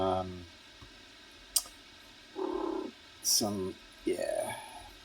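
A house cat purrs and makes several short vocal bursts near the microphone, alongside occasional sharp clicks like keyboard taps.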